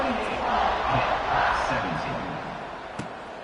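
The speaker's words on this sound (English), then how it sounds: "Do you think this crowd's going to get loud when their defense comes on the field?" A football stadium crowd roars in a broad, sustained swell that builds and then eases, with a commentator's voice talking over it.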